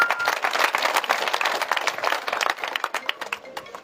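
An audience claps for a speech by former district collector Dr. S.P. Singh at a gathering in Sardarpurabash, a dense, steady burst of many hands throughout that thins slightly toward the end.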